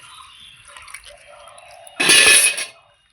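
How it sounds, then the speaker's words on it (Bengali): Water poured over food to wash it in a home kitchen, heard as one short, loud splashing burst after a quiet stretch of faint background sound. "জল দিয়ে ভালো করে এটাকে ধুয়ে নেব"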